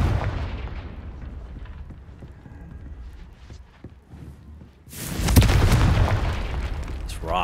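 A Confringo spell explosion in the Hogwarts Legacy game: after a quieter rumbling stretch, a loud, sudden booming blast erupts and rolls on with a dense, crackling decay.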